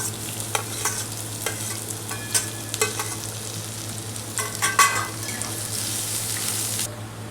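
Crushed garlic and onion fry in a pan, a gentle steady sizzle with spoon scrapes and clinks, a low constant hum beneath and no talking.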